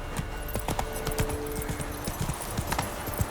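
Roach, a horse in The Witcher 3, trots with steady hooves clip-clopping close by. The hoofbeats come in a quick rhythm, with faint ambient game sound in the background.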